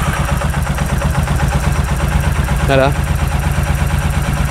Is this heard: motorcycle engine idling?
yes